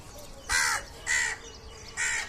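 Three loud, harsh crow caws ring out in a steady rhythm, each about a quarter second long, close by with a quiet outdoor background between calls.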